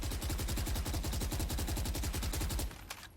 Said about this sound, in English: So I'm going to shoot the gun without pulling down.